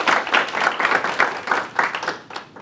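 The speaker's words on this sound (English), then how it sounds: "please give a round of applause for our first speaker" A conference audience at an AI event applauds a speaker, with close, fairly loud clapping in uneven pulsing bursts throughout.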